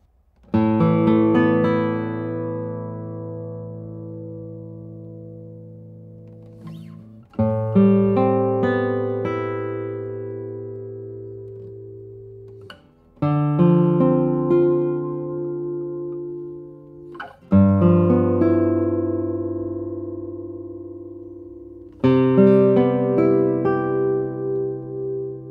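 Classical guitar with seven-fan bracing strums five full chords, each left to ring and slowly decay before the next, clear and close with no other sounds.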